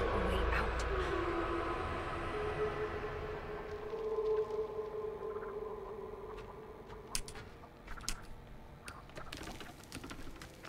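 Grandpa screams in The Texas Chainsaw Massacre video game with a long, wavering, train-like wail that starts loud and slowly fades over several seconds, then gives way to scattered clicks and game noise.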